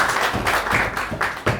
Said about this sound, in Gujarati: એકવાર જોરદાર તાળીઓ.